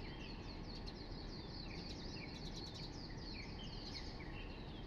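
Several birds sing at dawn, a quiet continuous wash of faint chirps and trills layered over a steady background hum, with no voices.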